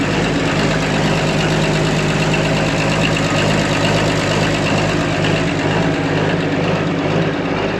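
A Fiat Atlas 31 tracked machine idles steadily at close range, its old engine giving a continuous, rough mid-pitched rumble with a faint knocking texture that holds at the same loudness throughout.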